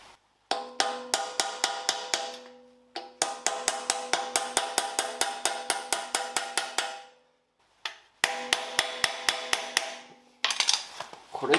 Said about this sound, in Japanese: キャップ外してまずはナット緩めちゃいます。